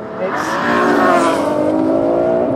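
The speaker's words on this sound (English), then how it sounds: "The engine's so intense, you have to be absolutely on it." A powerful supercar engine roars as it accelerates, its pitch climbing steadily through a rev, loud and close.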